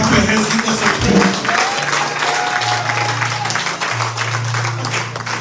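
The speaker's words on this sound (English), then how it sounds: "Clap your hands, give us a prayer." Church congregation clapping hands at a Sunday worship service in New York, steady dense applause from a full room, with low sustained organ or keyboard tones underneath and a voice briefly heard.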